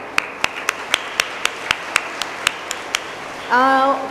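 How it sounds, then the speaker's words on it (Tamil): Single sharp hand claps ring out in a steady, even rhythm at a motivational talk, about a dozen in all. A voice then speaks briefly at the end. "அவருக்கான கைத்தட்டல் நீங்கள் யாரும் கொடுக்கல, அது இப்போவே கொடுத்துடலாம்."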